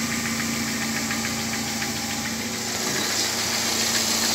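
A car engine idles steadily and fairly quietly after its alternator belt has been sprayed, a constant low hum with faint ticking and no squeal, no voices.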